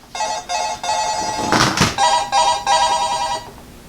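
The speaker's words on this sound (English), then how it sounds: "that was my alarm going off" A phone alarm rings nearby in repeated loud electronic tone bursts, briefly interrupted midway by a couple of thuds, then resumes for several more pulses before stopping.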